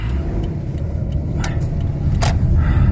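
Steady low rumble of a car driving through the Saltivka and Nemyshlia districts of Kharkiv, heard from inside the vehicle as a constant road and engine drone with a few faint clicks and rattles, no talking.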